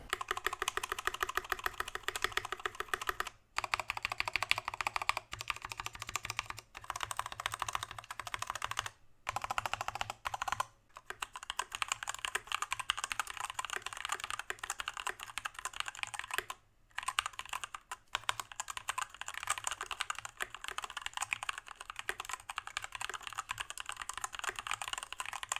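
Steady typing on a Keychron K14 mechanical keyboard with lubed switches, a dense run of close clicking keystrokes with a few brief pauses and no voices.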